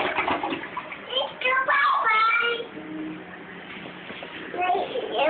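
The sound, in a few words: toilet flushing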